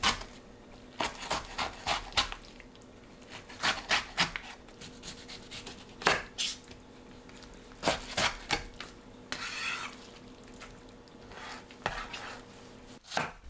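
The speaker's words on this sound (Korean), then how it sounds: "묵은지를 길게 자르고 심지 자른 뒤 2등분합니다." A kitchen knife slices aged kimchi lengthwise on a cutting board with crisp, quick chops. They come in irregular bursts with short pauses between them, close and fairly quiet, and a few faint clinks of utensils sound alongside.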